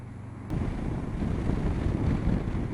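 Riding a 2014 Kawasaki Versys motorcycle, steady wind noise rushes loudly across the microphone after a short quieter moment, a dense continuous roar with no talking.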